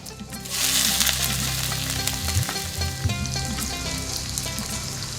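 Onion paste fries in hot oil in a karai for a banana-flower and prawn ghonto, a loud, steady sizzle with crackling spatter and occasional scraping stirs, and no talk.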